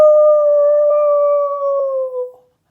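A voice imitates a young vixen fox howling: one long, steady, mournful tone held for over two seconds that sags slightly in pitch and fades out, loud and close, alone.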